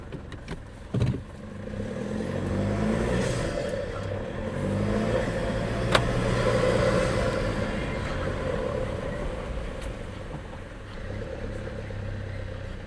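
A car driving along and slowly turning around, heard from inside the cabin as a steady low engine and road rumble that rises and falls gently, with a couple of faint clicks and no talking.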